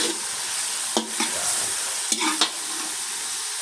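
Tomatoes stirred and sautéed in a pan for Filipino dinengdeng, a steady sizzle with a few distinct scraping strokes of the spoon against the pan, close and alone.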